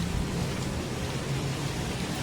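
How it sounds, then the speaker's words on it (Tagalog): Heavy rain pours steadily outdoors in Angeles City, a dense, even hiss close to the listener with no break and no voices. "Malakas na ulan."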